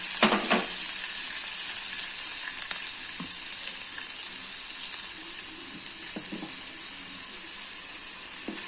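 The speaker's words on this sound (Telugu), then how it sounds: "నేను కొంచెం నూనెలో డీప్ ఫ్రై చేస్తాను" Onion and green chillies deep-frying in oil for a sandwich filling, a constant close bright sizzle with a few clicks of utensils, no voices.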